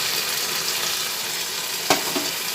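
Eggplant cooking with mustard and poppy seed paste sizzles steadily in a pan, with a single sharp spatula scrape near the end.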